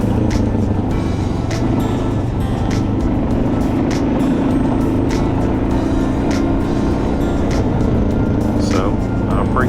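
Suzuki DRZ400 motorcycle riding along a dirt road toward a mountain state park in Alabama, a loud, steady engine drone mixed with constant wind rush, with brief voice fragments heard under it.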